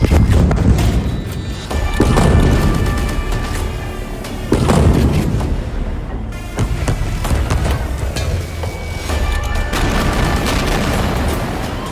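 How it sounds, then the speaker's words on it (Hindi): Bomb explosions in Gaza produce a series of heavy, booming blasts, several loud thuds a few seconds apart with rumbling and crackling debris between them. "ऐसे ही गाजा में और धमाके देखिए"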